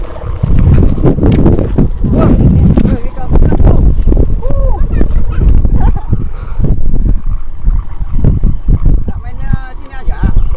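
Strong wind buffets the microphone in a continuous loud roar while kites are flown on a clear, gusty day in Belitung, with people talking under the rumble.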